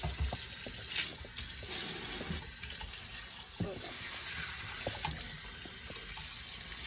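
Canned beans rinsed under a kitchen sink tap: a steady stream of running water splashes and patters against the beans for several seconds, with light clatter and shaking noises mixed in.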